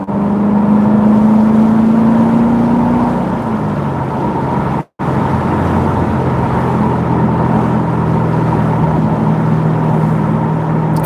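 A Corvette C7 Z06 engine and exhaust rev up in a rising, crisp roar, then drop back. After a brief cut it settles into a steady, rumbling idle, close and loud with no talking.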